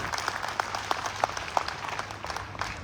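Audience applause at an IMC network marketing seminar in Haridwar: steady, moderately loud crowd clapping with sharper individual claps standing out in an even rhythm throughout.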